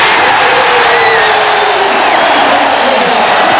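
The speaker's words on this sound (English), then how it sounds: "John Starks has this crowd going" Arena crowd at a 1994 NBA playoff game between the New York Knicks and Indiana Pacers roars steadily in cheers and whoops after John Starks hits a three-pointer, a loud, dense wash of voices throughout.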